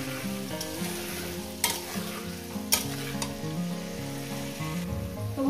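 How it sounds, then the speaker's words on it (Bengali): Potatoes frying in a pan for a jackfruit curry with goat fat and minced meat, a steady sizzle under tonal background music with a few sharper stirring clicks. "আমি আলুগুলো আগে ভেজে নেব"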